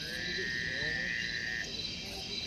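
Frogs croak and chirp at night in northern Australia's wild tropics, high trilling calls repeating over a steady hum of insects and night ambience.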